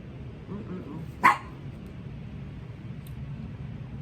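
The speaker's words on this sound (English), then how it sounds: "my dog wants to, make some noise because I'm filming" A single sharp dog bark rings out once, mid-distance, against a quiet low background hum.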